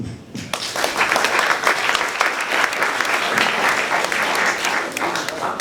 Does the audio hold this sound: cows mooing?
no